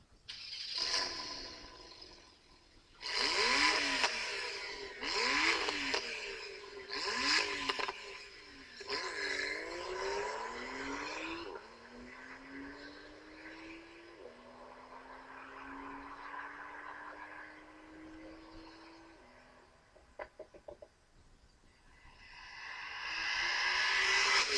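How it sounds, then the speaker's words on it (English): Porsche 911 Targa 4 GTS engine notes played from the online configurator: several rev blips and revving bursts, then a long rising engine tone through gear changes, fairly faint and alone without talk. "If you play it, you get some pretty wicked engine notes played."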